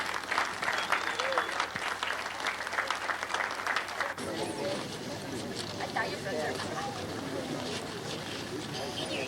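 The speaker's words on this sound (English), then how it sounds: "let's hear one more round of applause for all our distinguished guests" Outdoor round of applause for distinguished guests at a trail grand opening, crowd clapping steadily over wind noise, the sound shifting abruptly partway through as if the recording cuts to another moment of the same ovation.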